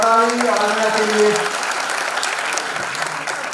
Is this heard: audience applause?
yes